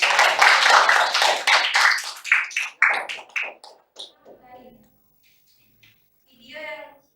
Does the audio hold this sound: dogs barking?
no